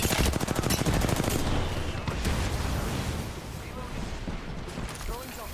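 Rapid automatic gunfire in a firefight in the video game Apex Legends, with a fast rattling burst dominating the opening seconds, then continuing more loosely beneath game noise; steady and fairly loud throughout.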